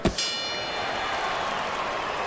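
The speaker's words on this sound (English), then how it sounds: "Final bell of what is going to be a very tough fight to score" A single bright clang of the final round bell in a Fight Night Champion boxing game, with a sharp strike at the start and then a shimmering ring that fades under steady crowd noise.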